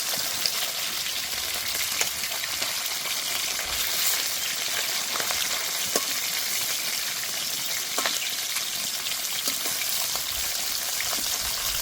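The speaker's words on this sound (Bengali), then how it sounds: "মাছগুলো হালকা করে ভেজে নিয়েছি" Hilsa fish pieces frying lightly in oil, a steady dense crackling sizzle with scattered sharper pops throughout, close and continuous with no voices.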